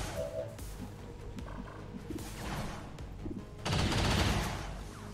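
Suppressive gunfire in the video game XCOM 2, a modded War of the Chosen campaign: a sustained muffled volley of shots that swells louder near the end amid game effects.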